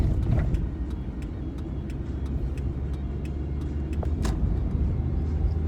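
A car driving along a road, heard from inside as a steady low engine and road rumble with faint intermittent clicks, no talking.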